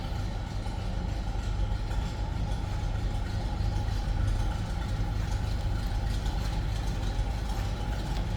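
A 1954 Ford F100 pickup with a 292 Y-block V8 idles steadily nearby, a continuous low, even rumble with no revving and no one speaking.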